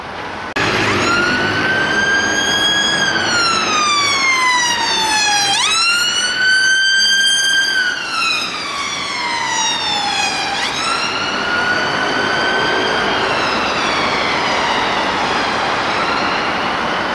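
Emergency vehicle sirens wail on a London street, loud and close, sweeping up and down in long rising and falling tones that shift pitch as the vehicle passes, with road traffic rumbling underneath.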